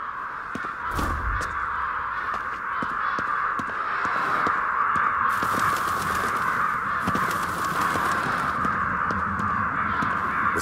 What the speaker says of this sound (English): Crows are going crazy.